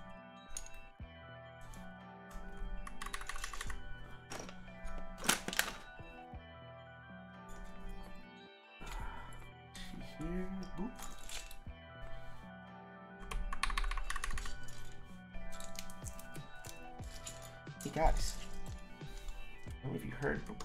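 Clacky typing on a KBD75v2 mechanical keyboard with Glorious Panda tactile switches, bursts of brisk keystrokes with pauses and occasional clinks, close and fairly quiet, with a person talking between bursts.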